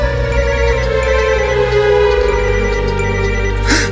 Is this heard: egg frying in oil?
no